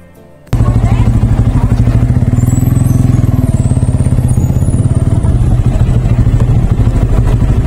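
A motorcycle engine runs steadily and close by as the rider pulls in toward the parking area at the entrance gate of Green Valley Park in Lalpur, Natore, with a loud continuous low rumble throughout.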